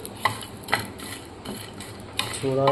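A utensil scrapes and clinks against a pan in a few separate strokes while stirring dried shrimp, fairly quiet, with a brief hum near the end.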